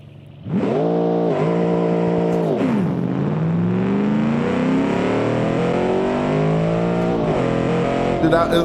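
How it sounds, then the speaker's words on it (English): A V8 engine in a small video game car in BeamNG revs up loudly and holds a rising, throaty roar as the car accelerates through gears, close and continuous. "the V8 in this little car, it sound good"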